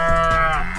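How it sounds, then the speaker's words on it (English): A cow gives a single short, steady moo, loud and close, with no other sound around it. "This lovely animal gives us milk and says moo"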